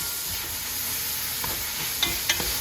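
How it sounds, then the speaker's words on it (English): Steak searing in a pan on a medium stove, a steady bright sizzle with a few stirring clinks near the end as seasoning is mixed in. "sear for about 2 more minutes, and then I throw all my seasoning in"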